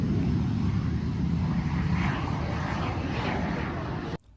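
A Vision jet at a small airfield makes a loud, steady engine roar that holds for about four seconds, then drops off sharply near the end.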